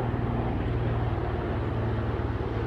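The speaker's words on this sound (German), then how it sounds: "scheiß Hubschrauber" A helicopter drones steadily overhead, a loud continuous low rumble with a rhythmic rotor throb that stays constant throughout, with no voices.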